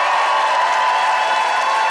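A comedy debate show's studio audience voting by applause for Nikki Payne, a loud sustained roar of clapping mixed with cheers and whoops that holds steady throughout.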